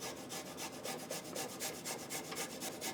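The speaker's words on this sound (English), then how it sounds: "I love microplanes for garlic." Garlic is grated on a microplane in quick, even rasping strokes, about five per second, close up and steady, with no talking.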